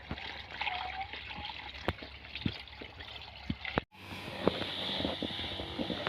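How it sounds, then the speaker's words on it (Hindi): Water poured into a pesticide sprayer tank in an aubergine field, a close trickling, gurgling pour with occasional knocks, then a fuller, steadier rush of liquid. "अब इसमें पानी डाल के और अब हम बैंगन में छिड़काव करते हैं कीटनाशक दवाई का और टॉनिक का।"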